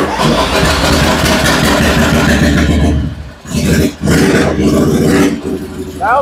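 A 1958 Cushman Eagle trike scooter, custom built, fires up into a loud, steady mid-pitched engine idle, briefly dipping and catching again, with people speaking over the running engine.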